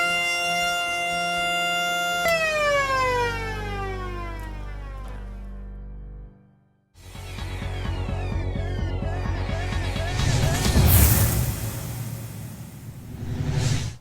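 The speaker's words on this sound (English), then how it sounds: "you'd hit the siren, plant the foot and get the baddies" A police siren on a 1960s Dodge Phoenix holds a steady wail, then winds down in pitch and stops briefly. A loud, rising roar with whooshing follows.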